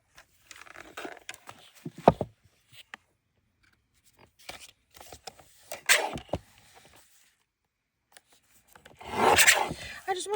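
Paper edges being trimmed for a handmade junk journal, with short scattered rasping and rubbing bursts near the microphone separated by quiet gaps and a longer scratchy stretch toward the end.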